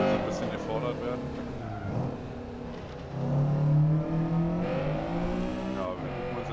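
Honda Civic SiR-II EG6 engine in the Assetto Corsa racing game on the Climatec A track, revving and shifting through gears as the car accelerates, with a strong rising drone mid-lap.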